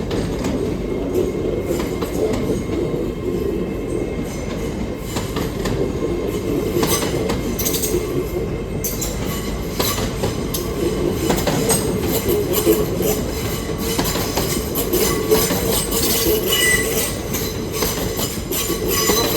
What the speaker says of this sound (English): So I'm looking behind, see if I can see the freight train.